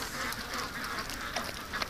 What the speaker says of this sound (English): the ducks are back in the pen